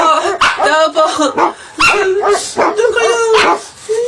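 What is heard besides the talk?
dog barking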